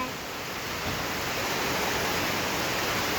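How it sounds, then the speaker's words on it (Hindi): Very heavy rain pours down during a storm in Kanpur, a dense, steady roar of broadband hiss that fills the whole clip without a break and no voices. "इतनी तगड़ी बारिश हुई है कि आप यकीन नहीं कर सकते"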